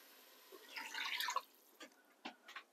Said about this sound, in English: I'm going to put the water in first.